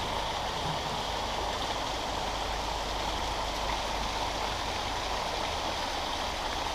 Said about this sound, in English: It's not often you get to see waterfalls on a railway line, but look at these beauties.